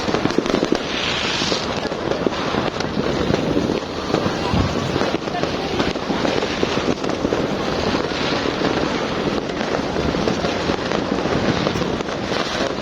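New Year fireworks and firecrackers go off in a dense, continuous barrage of crackling bursts and pops that never lets up, with voices faintly mixed in.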